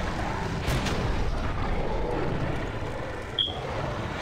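Gunfire in the first-person shooter Doom 3: Resurrection of Evil, heavy booming shots under a constant low rumble of game ambience, with a brief sharp tone near the end.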